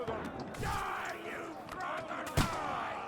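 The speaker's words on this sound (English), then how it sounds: "there will be a big explosion now" A big explosion in the Kingdom Come Deliverance 2 game, amid a dense battle with many enemies: a continuous roar of crowd noise and combat, then a sharp loud boom near the end.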